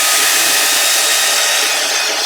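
A loud hairdryer blasts at full heat over acrylic paint, an unbroken close-up roaring hiss filling the whole stretch.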